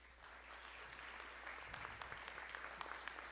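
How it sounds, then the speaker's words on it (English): An audience applauds an event's organizing team at a congressional primary debate, a steady wash of clapping with a few sharper individual claps standing out near the end. "I'd like you to give them a round of applause."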